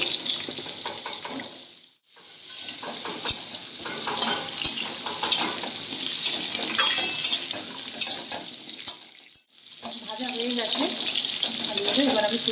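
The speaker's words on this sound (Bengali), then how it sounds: "এরপর আমি মিষ্টি আলু বা রাঙা আলুটাকে দিয়ে দেবো, এটাকে ভেজে নেবো।" Sweet potato frying in oil in a pan, a loud, dense sizzle with stirring clicks and scrapes, briefly dropping away twice before resuming, with no talking.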